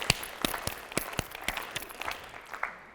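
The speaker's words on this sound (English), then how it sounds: "We're going to triple clap." A live audience claps along in a quick triple-clap pattern, bright clusters of hand claps at moderate volume blending into a light applause wash that thins out toward the end.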